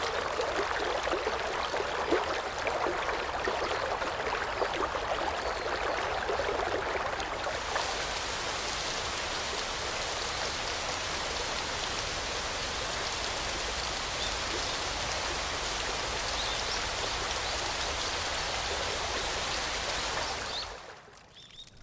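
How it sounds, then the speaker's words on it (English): Cold mountain water pours and spreads over dry rice fields in rural Japan, a steady rushing, splashing wash that grows broader and fuller midway, then stops abruptly near the end. "The cold mountain water spreads over the dry fields."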